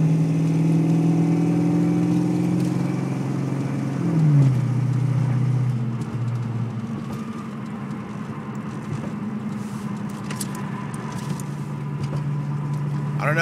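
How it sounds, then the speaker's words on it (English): Inside a moving car with a suspected fault, a whirring, spinning drone builds at speed, its pitch sliding downward partway through before settling into a steady hum beneath road and engine noise. "When I get up to speed, it'll start sounding like something's spinning."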